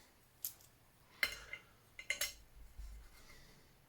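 Light metallic clinks and taps as a Soto pot grabber is handled against a Trangia 28 mini cook pot, a few sharp close clicks spaced over a quiet background.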